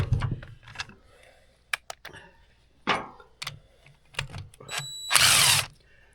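A power tool backing a 10 mm bolt out of a 1998 Polaris XC600 Liberty twin snowmobile, with short ratcheting bursts and one loud sustained whir near the end, between brief spoken remarks.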